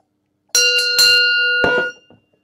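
A single cowbell rings loud and close in a couple of sustained, clanging strikes that ring out for about a second and a half, then stop. Rural farm setting.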